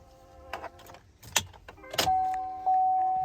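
Keys jangle in a few short metallic rattles while searching inside a truck with 211,000 miles, followed by a steady electronic tone that holds to the end.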